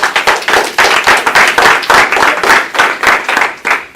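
A small audience at a Tuesday-night evening event claps together, steady rhythmic applause of many hands filling the whole stretch, close and fairly loud with no talking.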